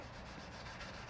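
A hand rubs steadily over a rusty, rough pressed underbody panel that has been sprayed, producing a close, continuous scratchy friction sound with a faint rhythmic pulse, quiet and without voices.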